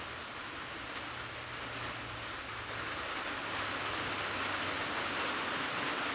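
Heavy rain outdoors near bushes, a dense continuous hiss that stays steady and fairly loud, with a faint low drone underneath for a few seconds.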